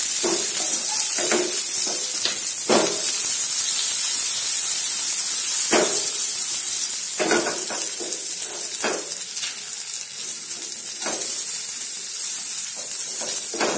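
Stuffed okra (bharva bhendi) sizzling in a pan over a low flame, a steady loud hiss of frying oil with occasional scraping stirs and small pops, continuous and close.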